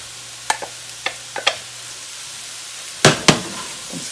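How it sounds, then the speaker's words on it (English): Rice being stirred in a hot frying pan during meal prep: a handful of sharp scrapes and clacks of the utensil against the pan over a faint sizzle, with two louder knocks near the end. "I'm just going to give that a quick stir."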